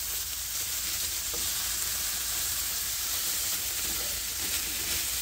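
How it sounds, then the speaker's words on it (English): Cold onions hit a hot, oiled pan after cooking pork for a Portuguese bifana sandwich, giving a loud, steady, close hiss and sizzle that holds without letup. "those cold onions will kind of deglaze the pan as well"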